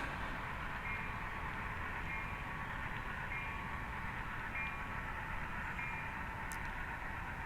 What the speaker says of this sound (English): This is a double stack train.